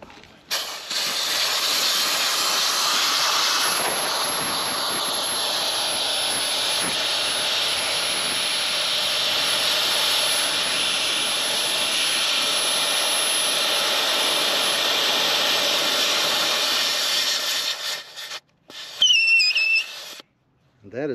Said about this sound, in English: So when you go to air down, you just turn this valve.